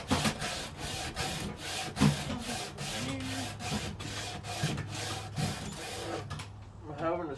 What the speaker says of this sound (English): I'm having to sand some of this by hand though